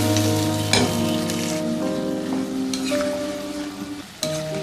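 Whisked yogurt is stirred into mutton karahi in a pan, giving a close, continuous sizzle and the scrape of a spoon, with music playing steadily underneath.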